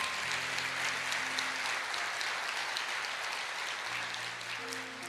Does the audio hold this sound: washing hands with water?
no